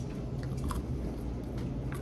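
Close, soft chewing and crunching of food-truck fries in a short burst of steady mastication, with no talking.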